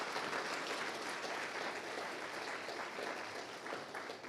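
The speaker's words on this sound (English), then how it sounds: "Let's give them a big round of applause." At a genetics conference, the audience claps for the speakers at a closing session, a dense, steady round of applause with no talk, a little distant and fading slightly at the end.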